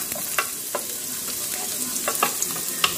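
Garlic and onion fry in a pan, a dense steady sizzle with occasional sharp clicks of a utensil stirring, close and continuous with no talking.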